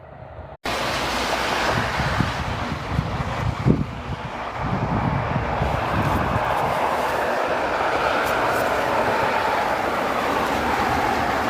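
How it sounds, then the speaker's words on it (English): The Cleveland Browns Boeing 757 jet roars on departure from runway 24 right at Cleveland Hopkins Airport, a loud, steady, broadband engine rush that builds and holds for about eleven seconds, heard from a distance without speech. "Cleveland Browns 757 for departure runway 24 right"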